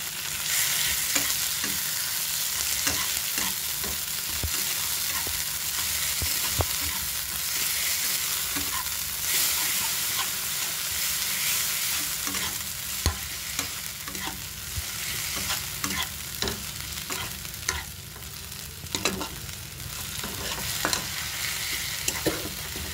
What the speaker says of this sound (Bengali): এবার এতে পেঁয়াজ বাটাটা দিয়ে দিচ্ছি।